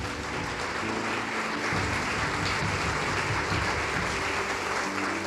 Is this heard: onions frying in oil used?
no